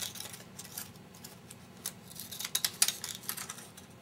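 A die cutting machine runs through a whole paper strip to cut a scallop edge, giving faint irregular clicks and snips that grow louder and more frequent toward the end, with a low steady hum underneath.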